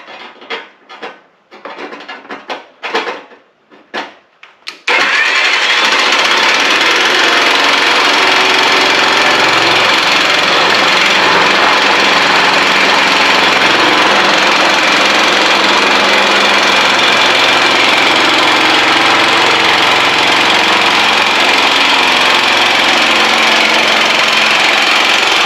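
A power tool cuts corrugated roofing metal along a seam to make a straight cut. A few short bursts give way to a loud, steady, close grinding roar that runs for about twenty seconds without a break or any talk.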